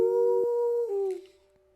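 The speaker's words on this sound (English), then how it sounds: "And it's just at that point you hear a howl." A single long, steady howl sounds loud and close, then bends downward and fades away within about a second and a half.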